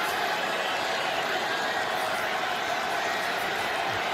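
Steady wash of a large stadium crowd at an NFL football game, a dense continuous roar of many thousands of fans with no distinct cheers or claps standing out, filling the whole stretch.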